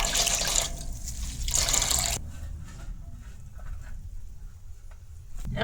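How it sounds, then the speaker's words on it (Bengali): Cold rinse water is poured off freshly made homemade paneer, giving two short bursts of splashing and pouring followed by quieter, faint dripping and trickling, with no talk. "এটার মধ্যে ঠান্ডা জল দিয়ে খুব ভালো করে দিই এটা জলটা ফেলাই দেই"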